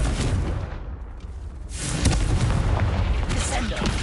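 A Confringo fire spell explodes in the Hogwarts Legacy video game, a loud, dense booming burst that swells after a brief quieter lull and rumbles on to the end.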